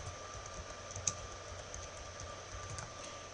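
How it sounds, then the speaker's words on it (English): Computer keyboard being typed on, a quiet run of soft key clicks with one sharper tap, heard alone against faint room hum. "I'm going to type in backlinking."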